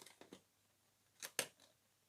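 A plastic bottle is cut into a strip with scissors, giving a few quick, close snips and crunches in quiet surroundings, with two sharper cuts near the end.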